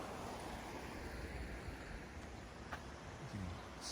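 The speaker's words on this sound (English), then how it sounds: "it's nice to be able to hear the water" Steady broadband rush of creek water flowing outdoors at Sutter Creek, California, continuous and even throughout, with a light wash of wind and a couple of faint brief knocks.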